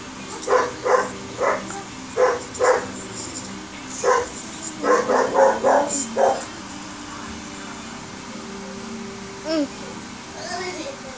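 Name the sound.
dog barking in a video game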